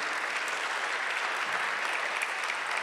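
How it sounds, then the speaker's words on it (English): An audience at a gubernatorial candidates' forum claps steadily, a dense even patter of applause filling the whole short stretch without a break. "I'm going to ask you to give our candidates a round of applause"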